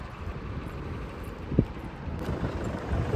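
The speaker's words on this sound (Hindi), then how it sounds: "हमारे पीछे बैकग्राउंड भी देखो, बहुत ही ज़्यादा हवा चल रही है।" Strong wind blows steadily outdoors, a continuous broadband rush with gusts and one brief thump midway, and no voices over it.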